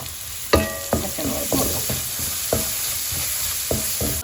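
Green chillies fry with masala in a pan for a beef dish, giving a steady hiss of oil sizzle broken by repeated scraping and stirring knocks, close and alone, with no voices.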